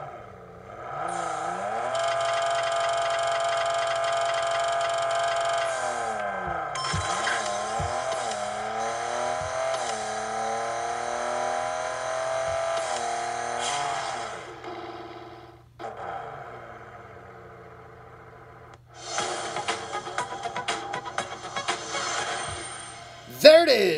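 A 1992 Honda Civic Si RE in the Racing Rivals game revs up, launches and climbs through rapid gear shifts to around 8200 RPM, the loud engine whine rising and dropping with each shift before a brief pause and a final burst of revving.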